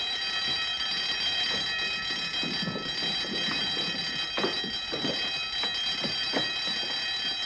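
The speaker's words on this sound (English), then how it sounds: "Turn off the alarm." An alarm rings continuously with a steady, shrill tone throughout, along with some muffled bumps and movement beneath it, inside a building in a 1952 spy film noir.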